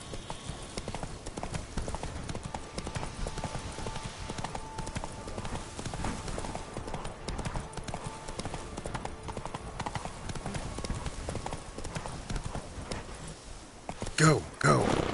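Horse Roach gallops in The Witcher 3, a steady clip-clop of hooves pounding throughout under game music and voices, with a louder thump near the end.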